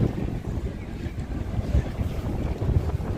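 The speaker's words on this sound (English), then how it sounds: "Ooh, super windy." Strong wind buffets the microphone in a steady, loud roar on a Tokyo street, with a low rumble that swells and eases.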